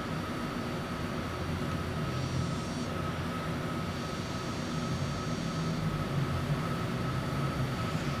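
A steady, unbroken airplane engine drone from Microsoft Flight Simulator fills the whole stretch, an even hum with a faint high whine over it.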